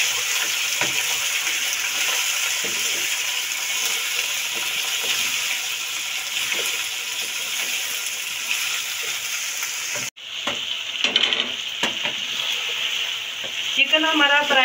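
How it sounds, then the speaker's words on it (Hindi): Chicken frying with onions in a pot, a loud, dense, continuous sizzle that breaks off briefly near the end, then returns with stirring and a few clatters. "चिकन हमारा फ्राई हो रहा है"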